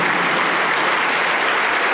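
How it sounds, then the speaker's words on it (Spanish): A church congregation bursts into dense, loud applause, a steady wash of many hands clapping together with no break throughout. "Aplauso para el Señor Jesús."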